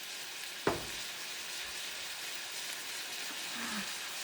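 Bitter melon and squash sauté in a pan, a soft steady sizzle and crackle with one sharp clatter of a utensil early on, then quiet frying alone.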